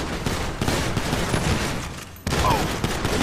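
Rapid bursts of video-game gunfire in Grand Theft Auto V on PS3, a loud, dense volley of shots running almost continuously, with a brief drop before another burst resumes.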